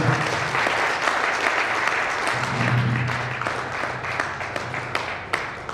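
An anniversary gathering's audience breaks into loud, sustained applause, dense steady clapping filling the room for several seconds with no voices on top.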